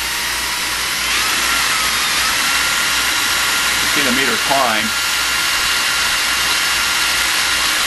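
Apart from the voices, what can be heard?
power drill running at full speed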